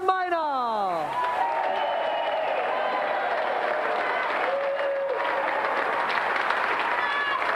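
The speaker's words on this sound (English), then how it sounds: "So let's have another round of applause for our two brilliant competitors, Mavis and Matthew John Minor." A studio audience on a gaming quiz show gives a round of applause for two competitors, sustained and even clapping after a descending musical sting, moderately loud with a brief tone partway through.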